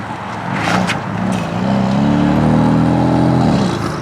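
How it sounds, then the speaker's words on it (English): A BMW M4 drives past close by outside, its engine revving and rising in pitch into a loud, sustained drone that holds steady before easing off. "So weird seeing your car drive from the outside."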